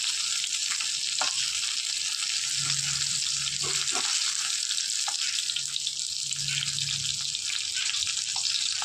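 Fish fries in oil left over from frying pointed gourd, giving a loud continuous hiss and crackle with a few faint knocks of utensils and no talking.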